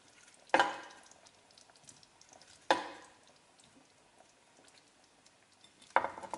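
A spoon stirs an Italian beef stew (spezzatino) in a pot before potatoes go in, giving three sharp scraping knocks spaced a couple of seconds apart, with faint simmering in the quiet between them.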